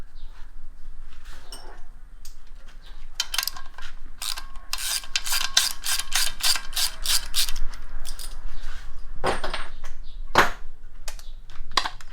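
Ratchet loosening the oil pan bolts on an LS 6.0 V8 during an engine teardown, giving bursts of rapid, close clicking in several runs, with short pauses and shop handling noises between them.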